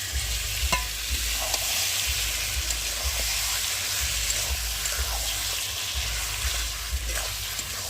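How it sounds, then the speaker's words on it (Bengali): Marinated chicken fries in spice masala in a pan, a steady close sizzle broken by repeated stirring scrapes and clinks. "আর এখন আমি মাখিয়ে রাখা চিকেনটাকে ভালো করে দিয়ে কষিয়ে নেব।"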